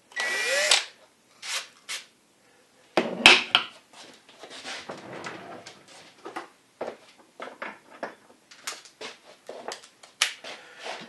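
A power drill whirs in short bursts as it bores into wood for a router table box joint jig, stopping and starting repeatedly with brief pauses and some clatter between runs.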